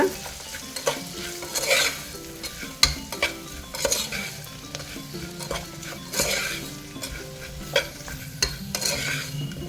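Kashmiri and byadgi chilli powder masala frying in a pan for a jackfruit seed gravy, with a steady sizzle broken by repeated scraping stirs and light clinks of a spoon against the pan, close and continuous.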